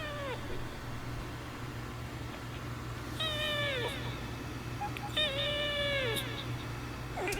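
A cat meows several times, drawn-out whiny calls that come in two main bursts over a low hum, fairly close.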